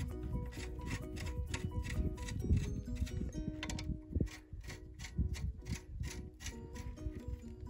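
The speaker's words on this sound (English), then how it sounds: "I just line those up, and then I just tighten these back down." Bolts being tightened back down on the shafts of a KBike, giving steady close rubbing, ratcheting and metallic ticking that runs nearly continuously, with brief louder clanks and no talking.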